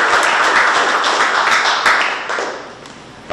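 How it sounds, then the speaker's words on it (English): Applause from an audience at a governor's press conference on a new roads initiative: a dense, steady wash of many hands clapping close by, thinning and fading toward the end with a brief louder burst at the close. "So give her a big round of applause."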